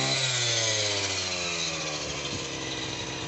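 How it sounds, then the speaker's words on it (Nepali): A grass cutting machine chopping a mix of maize and pea fodder, a loud continuous motorised whine with a steady engine drone, close by and alone. "अहिले चाहिँ हामीले यो मकै र केराउको मिक्स घाँस चाहिँ मेसिनद्वारा काटिरहेका छौँ"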